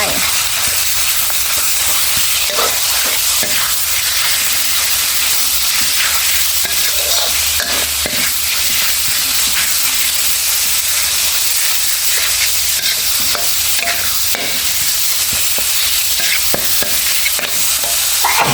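Minced pork and pickled bamboo shoots stir-fried in a hot wok, with a loud, continuous sizzle broken by the steady scrape and clatter of a spatula throughout.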